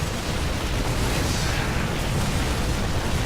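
A factory structure blowing up in a StarCraft II Terran-versus-Terran match, a dense, sustained rumbling blast with crackling debris that fills the whole moment at steady loudness, no voices over it.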